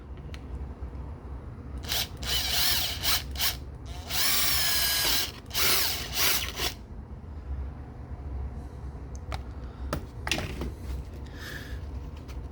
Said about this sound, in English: we're going to drill right through it